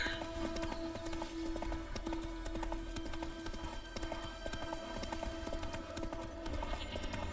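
Horse hooves gallop in The Witcher 3, a steady fast clip-clop rhythm running throughout at close range under a faint sustained tone.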